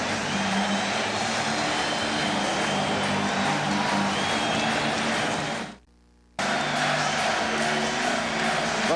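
A packed Madison Square Garden crowd roars during Game 5 of the 1994 NBA Finals between the New York Knicks and Houston, a loud sustained wall of cheering that cuts out briefly before surging back.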